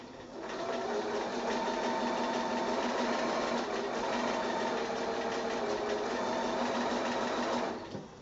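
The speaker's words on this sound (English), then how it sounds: "I'm going to go to the machine and I'm just going to stitch with my 1/4 inch seam allowance here" A sewing machine stitches quilt pieces at a quarter-inch seam, a steady, fast, whirring mechanical run that starts, holds for about seven seconds and stops, close and clear with no talk.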